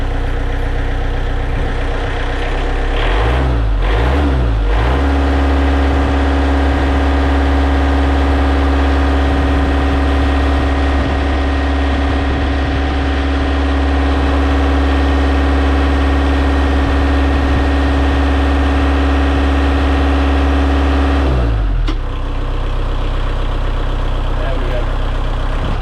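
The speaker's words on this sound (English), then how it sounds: "Quite noisy with the engine running." A narrowboat's diesel engine runs steadily at idle and sounds loud and close, with its low hum and harmonic drone continuing throughout. Brief handling noises come early on, and the engine note cuts off near the end.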